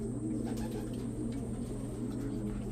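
Racing pigeons at a club loft in Tanay, Rizal, cooing in low, steady rolling calls that run through the whole moment over a constant background hum, with no talking.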